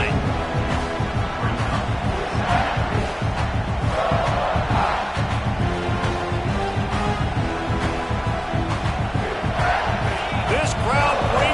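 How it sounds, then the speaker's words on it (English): A loud football stadium crowd roars and cheers continuously around a play, a dense wall of voices with rising swells, while a play-by-play announcer talks over it. "This crowd bringing the energy and noise early."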